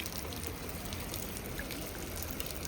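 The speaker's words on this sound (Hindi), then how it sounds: "भाई साहब, बारिश तो हो ही रही है फिर ठीक।" Rain falls steadily in Nainital, a faint, even wash of patter and dripping with no pauses and no voices over it.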